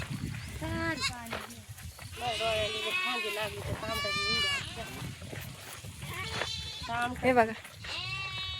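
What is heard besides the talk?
goats bleating while walking home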